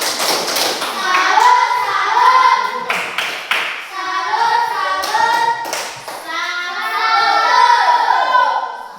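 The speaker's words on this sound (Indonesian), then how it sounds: "Oke, tepuk salut" Children in an Indonesian classroom perform the tepuk salut clapping routine, sharp rhythmic claps and thumps in bursts mixed with their chanting voices, loud and close.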